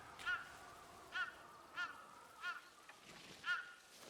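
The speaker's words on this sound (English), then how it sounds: "A crow. She has a lot to say." A crow caws in the video game Ghost of Yotei, five or six evenly spaced calls sounding fairly distant and faint over a soft, windy background.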